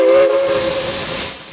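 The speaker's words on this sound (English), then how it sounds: "Two blasts of the whistle meant that the train was ready to head for East Chattanooga." The Southern 4501 steam locomotive sounds its whistle loud and close, a steady hooting tone over heavy hissing steam that gradually fades.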